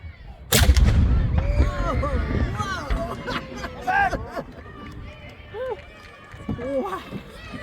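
A cannon fires after its charge is primed, at Peggy's Cove, Nova Scotia. One sharp, loud blast comes early and is followed by lively crowd chatter and cheering.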